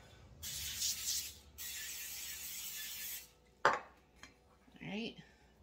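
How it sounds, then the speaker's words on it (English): A hissing spray sounds in two steady bursts, followed by a clatter of a pan and a short spoken remark. "Spray this pan."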